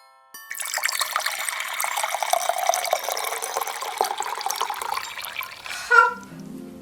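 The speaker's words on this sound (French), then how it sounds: "Versez le jus de fruits dans le punch." Fruit juice poured into a punch in a kitchen, a steady continuous liquid stream splashing for several seconds close by, ending with a brief louder gurgle and a light clink.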